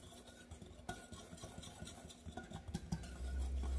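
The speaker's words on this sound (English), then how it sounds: "I'm going to give that a good mix and combine well." A utensil stirs flour, salt and baking soda together in a bowl, giving soft, quiet scraping and clinking, close up with no talking.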